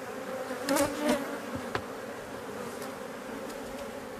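Honey bees at hive number four during a spring frame inspection, a steady close buzz with a few louder passes of individual bees flying near, alone with no talk.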